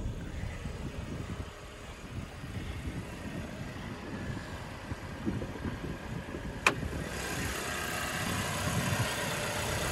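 Porsche Macan 2022 facelift SUV with its four-cylinder twin-turbo EA888 engine idling under an open hood, a low, even hum heard up close with a sharp click partway through and a slight rise in level afterward.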